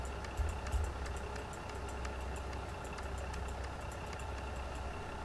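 A diesel train engine idles in Train Sim World 2, a steady low rumbling drone with a couple of soft thumps near the start, continuous and even throughout.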